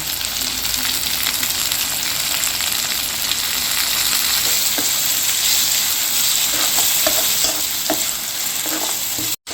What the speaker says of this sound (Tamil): தக்காளி நல்லா வதங்கணும்ப்பா, அப்போ தான் தொக்கு நல்லாயிருக்கும்.